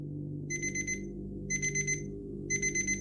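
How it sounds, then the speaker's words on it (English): An alarm clock ringing in three evenly spaced bursts of rapid high electronic beeping, about a second apart, over a low steady room hum, fairly close and alone. "alarm went off at 7 a.m."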